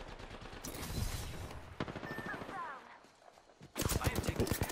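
Rapid bursts of automatic gunfire in the video game Apex Legends, dense repeated shots near and loud, broken by a short lull before another heavy burst, with game effects between them.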